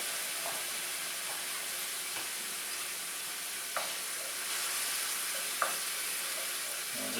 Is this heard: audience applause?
no